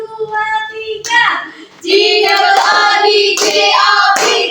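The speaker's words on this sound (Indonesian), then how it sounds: "Tepuk tangan dulu ya untuk kelompok 1." Primary school children in a maths class clap their hands together in a rhythmic group cheer for a classmates' team, in short bursts under a teacher's speech and children's voices.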